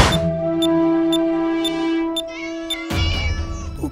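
A cartoon cat gives a long, drawn-out, loud meow that wavers in pitch, then breaks into a harsher, rougher yowl near the end, close and with no talk over it.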